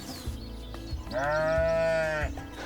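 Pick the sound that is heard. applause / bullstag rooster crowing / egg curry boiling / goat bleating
goat bleating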